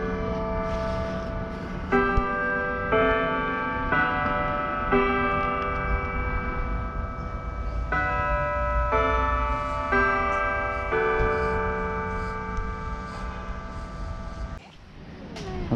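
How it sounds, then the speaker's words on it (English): Church bells in a Savannah square ring in a steady sequence of clear, resonant strikes with overlapping tones, carrying over faint street ambience before stopping abruptly near the end. "Church bells."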